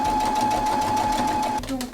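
Sewing machine stitching around the edge of a fabric basket, a steady near whir with a sustained tone that cuts out near the end, leaving a brief quieter tail.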